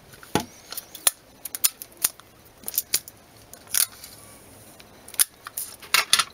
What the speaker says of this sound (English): So you get your tape and put it on top.